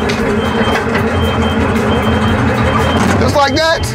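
A garbage smash truck reverses with its diesel engine rumbling loudly, and a rapid series of backup beeps starts near the end.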